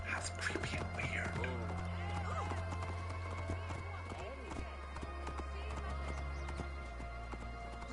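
Horse hooves clip-clop steadily in Assassin's Creed Origins Discovery Tour, a continuous rhythmic trot under a constant low hum and ambient game sounds, with soft whisper-like voices mixed in.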